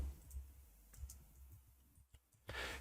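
A few soft, sparse clicks from a computer keyboard while text is typed into a Premiere Pro text box, faint and close, ending in a short brighter burst of noise.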